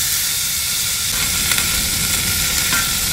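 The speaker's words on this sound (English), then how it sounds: "So I'm just browning off that little bit of leftover hamburger meat" Leftover hamburger meat browning in a pan sizzles loudly and constantly, a dense hiss with faint pops and no voices.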